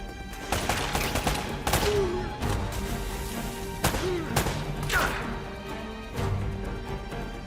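Several sharp gunshot bursts crack at irregular intervals in the video game Uncharted: Drake's Fortune, some loud and close, others quicker in succession, with a busy rumbling background.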